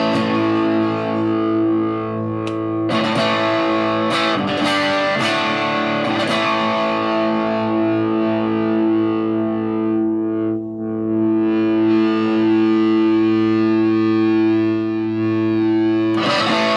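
Electric guitar played through a Marshall G15R amp with the gain turned up and reverb off, ringing distorted chords that sustain steadily and loudly with a few sharper strums near the start.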